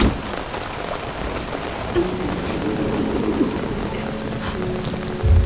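Steady rain falls and patters on surfaces in a dense, continuous hiss, with faint tonal sounds in the background and a low rumble near the end.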